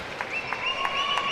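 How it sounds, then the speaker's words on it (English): Audience at the 2025 Asian Championships table tennis final applauding after a long rally, a brief burst of steady clapping and cheering with a few whistles rising over the crowd noise. "The crowd has come alive."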